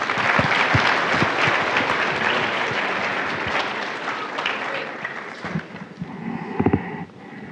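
An audience applauds a speaker being welcomed at the GlenX Career Expo, a fall 2017 career event; steady, dense clapping that holds for several seconds before thinning and tapering with a few last scattered claps.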